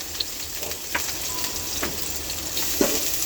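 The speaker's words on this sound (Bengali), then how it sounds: "পেঁয়াজ দিয়ে আমি একটু নেড়ে চেড়ে নিচ্ছি" Chopped onion fries in hot oil in a pan while being stirred: a dense continuous crackling sizzle with a few soft scraping stirs spaced out, close by and without voices.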